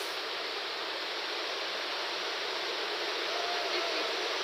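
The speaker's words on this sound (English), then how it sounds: "Okay, so this is our waterfall, as you can see." Steady, loud broadband roar of a waterfall close by, an unbroken wash of falling water filling the whole clip with no voices.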